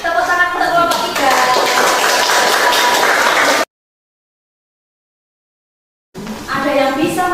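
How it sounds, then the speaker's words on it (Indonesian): A classroom of students claps together for a group, a loud, close burst of clapping mixed with voices that cuts to silence and then resumes. "Tepuk tangan untuk kelompok 3."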